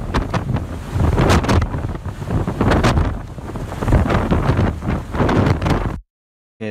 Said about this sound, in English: that's just too windy